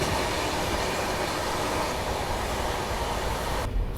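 A first-class passenger train runs along the rails into Vizianagaram Junction in India, a loud, steady rolling rumble and rattle from inside the carriage, continuous throughout.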